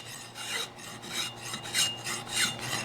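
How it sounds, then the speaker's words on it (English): A hand file works the edge of a new hand plane in steady back-and-forth strokes, a close, dry metallic rasp repeating about five times with no talking. "So I'm just going to come in here with my file."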